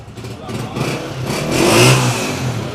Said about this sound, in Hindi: अच्छे साउंड में, दबंग साउंड, बाइक स्टार्ट खड़ी है।